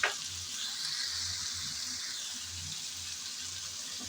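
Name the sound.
long beans added to potatoes frying in a pan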